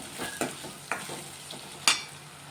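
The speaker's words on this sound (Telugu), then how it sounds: "ఉల్లిగడ్డలు అయితే మంచిగా ఫ్రై అవుతున్నాయి" Onions fry in a pan with a steady soft sizzle, punctuated by a few sharp scrapes and stirs of a utensil, close and without talk.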